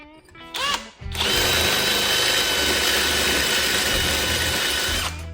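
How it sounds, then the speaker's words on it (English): A rotary tool with carbide bits cuts into metal on a hot rod Corvette build, spinning up after a brief lead-in and holding a loud, continuous high whine for about four seconds. "little carbide bits. These things just rip."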